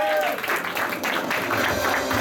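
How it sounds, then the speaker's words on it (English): A convention crowd applauds as a contestant is called up for an anime-style Who Wants to be a Millionaire game, a short burst of dense clapping mixed with crowd voices. "come on, give her a round of applause"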